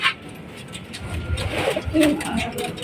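Pigeons coo softly nearby, a few low murmuring calls rising toward the end amid light outdoor background noise.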